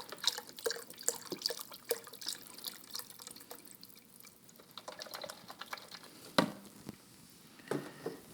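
Unsalted stock is poured into a soup pot for Quebec-style yellow split pea soup. Faint, irregular liquid splashes and drips sound close but quiet, with a few sharper clinks, and no talking.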